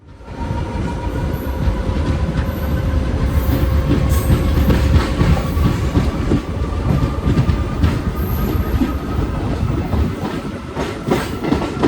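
A Maa Tara Express train on the Sealdah–Rampurhat line in West Bengal rumbles steadily along the tracks with a dense clattering roar and faint high wheel squeals, continuous and close for the whole stretch.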